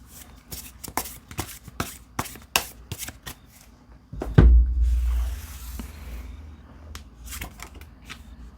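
Tarot cards being shuffled and handled up close, a quick series of crisp slapping snaps, then a soft thud and rustling swish before more card snaps. No speech.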